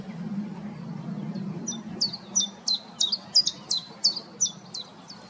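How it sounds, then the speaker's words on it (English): Small songbirds singing from hedges and trees lining a path at RSPB Snettisham: a bright, rhythmic series of repeated chirping notes, close and clear, rising over a low steady background murmur. "Hedges and trees line this pathway all the way down, and of course they're full of wonderful bird song."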